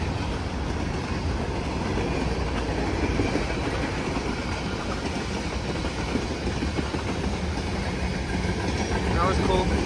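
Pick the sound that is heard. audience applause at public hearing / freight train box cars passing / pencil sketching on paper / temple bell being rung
freight train box cars passing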